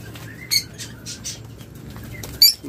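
Birds in a breeding setup flap their wings in short bursts, two sharp flurries standing out against faint chirps and rustling in a quiet room.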